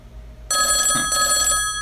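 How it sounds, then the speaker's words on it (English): A telephone rings after a quiet start, giving two bright electronic trill bursts with a brief gap between them. The ringing is loud and close and no one speaks over it. "Oh, phone's ringing."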